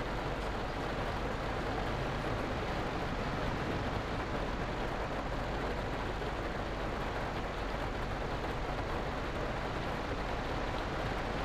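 Steady rain in the Fernbus Simulator driving game, a dense, even hiss of falling rain that stays constant and moderately loud throughout, with a low rumble of vehicle noise underneath.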